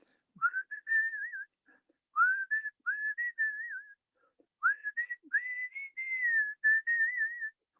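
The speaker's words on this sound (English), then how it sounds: "can you give us a quick blast of the whistle now?" A clear melodic whistle, near and alone, in several wavering phrases with short pauses between them.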